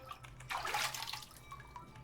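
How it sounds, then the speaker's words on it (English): Water splashing and pouring into a bucket in the game Ib, a short soft gush that swells and fades, fairly faint and alone. "Filled the bucket with water."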